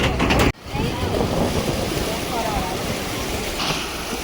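Ocean surf rolling onto the beach at Dhanushkodi, a steady broad wash of breaking waves with wind noise, loud and close, after a brief sharp cut near the start.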